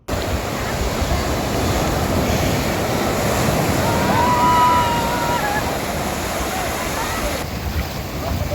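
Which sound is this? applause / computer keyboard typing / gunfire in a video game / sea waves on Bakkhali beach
sea waves on Bakkhali beach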